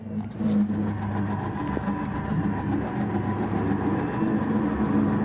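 Racing cars in a video game sit on the grid at a race start on the Sardegna B track, their engines revving loudly in a steady, dense drone that holds throughout with no break.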